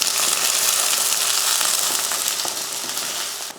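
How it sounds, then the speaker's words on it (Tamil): Onion, garlic and green chilli sauté in hot oil in a kadai for an idli kuzhambu, giving a loud, steady, crackling sizzle that runs without a break and eases off slightly at the end. "ஒரு பெரிய வெங்காயம் ஒரு மூணு பல் பூண்டு ரெண்டு பச்சை மிளகாய் வதக்கிடுவோம்"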